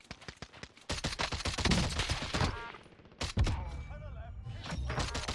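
Rapid bursts of automatic gunfire in Call of Duty Warzone, loud and dense with overlapping shots, pausing briefly before resuming, with game effects in the background.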